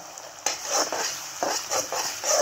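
Chopped onions frying in oil after garlic for a brinjal and potato curry, a close, loud sizzle swelling in waves with sharp metal spatula scrapes and stirs against the pan.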